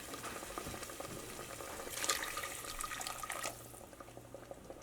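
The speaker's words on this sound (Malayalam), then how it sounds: "ഇതിലേക്ക് ഞാൻ നല്ല തിളച്ച വെള്ളമാണ് ചേർക്കാൻ വേണ്ടിയിട്ട് പോകുന്നത്." Boiling water is poured into an egg curry in a pan, making a soft, steady splashing and bubbling pour that swells briefly midway and then settles, fairly quiet and close.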